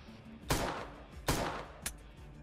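Shotgun fired in the video game World Of Forge, three loud close blasts with short decays, the first two evenly spaced and the third quicker and thinner.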